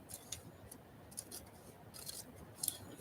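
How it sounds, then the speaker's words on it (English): Scissors snipping paper into separate words, a few soft, close cuts and rustles over quiet background hiss, with no talk. "And then we'll cut the words apart."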